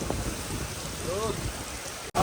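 Rain falling steadily in Makkah, a broad constant wash of rainfall with faint voices nearby and a brief dropout near the end.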